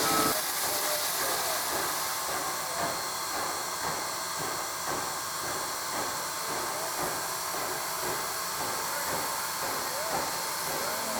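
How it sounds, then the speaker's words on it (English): Steam locomotive 734 rolls slowly off a turntable, a broad steady hiss of steam over low mechanical rumble and faint rhythmic rail clanks, continuous and moderately distant. "As 734 rolls off the turntable, she runs around the train and will couple up to the other end for the return trip to Cumberland."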